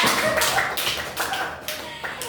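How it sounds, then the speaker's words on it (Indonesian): Students in a junior high classroom clap together during a microteaching lesson, a dense wash of overlapping hand claps with a few sharper accents, steady and fairly close, with faint voices underneath. "Tepuk tangan kita semua ya."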